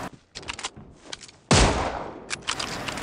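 A loud, sharp sniper rifle shot in the mobile battle royale game BGMI, a single heavy blast with a lingering tail, set among scattered lighter gunfire pops before and after.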